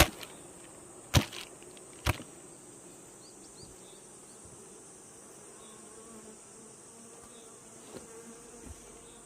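Honeybees buzzing at an opened hive box during an inspection, a steady high droning hum throughout with a couple of sharp wooden knocks and clicks early on.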